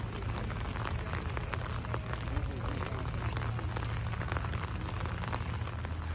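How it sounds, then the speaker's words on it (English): Steady rain falls on a rainy day near Epcot at Walt Disney World, a constant dense patter with a low rumble beneath, continuous throughout and without speech. "But it's super cute rainy day."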